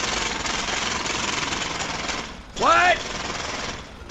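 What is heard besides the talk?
jackhammer drilling a street in GTA video game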